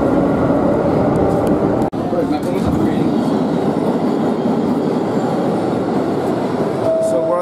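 A New York City subway train rides along the rails, a loud, steady roar and rumble with rattling carriages and a brief sharp clunk, with people talking under the noise.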